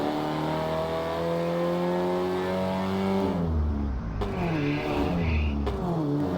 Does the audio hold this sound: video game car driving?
yes